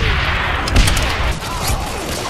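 Artillery booms amid rattling battle noise in Call of Duty, with a few heavy thuds over a dense backdrop of gunfire.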